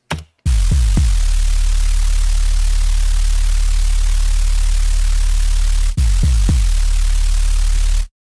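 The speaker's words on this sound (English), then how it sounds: "I am shaping those signals together until they start to distort" A loud, harsh wall of noise and a sine tone distorted by a wave shaper, over a heavy droning low tone, broken by short rhythmic thumps near the start and after a brief gap.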